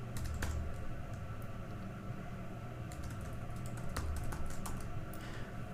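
Someone types on a computer keyboard in a quiet lecture room, producing irregular, faint clicking keystrokes in short bursts over a low background hum.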